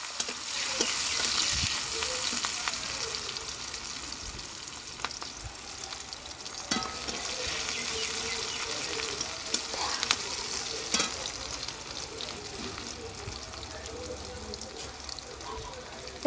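Chopped onion fried and stirred in a pan for a potato and eggplant fish curry, giving continuous close sizzling with irregular spatula scrapes and knocks over a long stretch.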